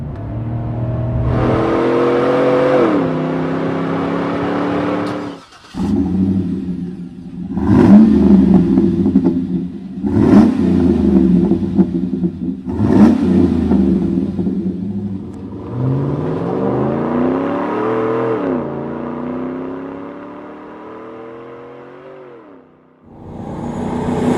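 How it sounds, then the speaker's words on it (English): Car fitted with a Borla S-Type exhaust, engine revving up and easing off in several loud surges, pitch climbing through the gears with brief lifts between pulls, close and alone without talk. "I'm driving now with Borla's S-Type exhaust, and you can probably tell that the sound is kicked up a couple notches"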